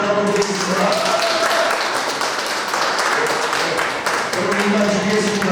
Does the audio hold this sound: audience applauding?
yes